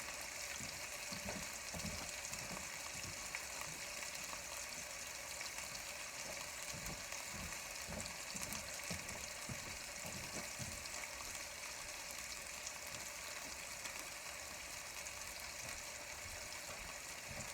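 Steady, quiet sizzling of food frying in a pan, with faint crackles running throughout and no voices.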